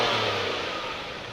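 A 2022 Acura MDX A-Spec V6 revs outside with a smooth exhaust roar that swells and then eases off, heard briefly from outside the car.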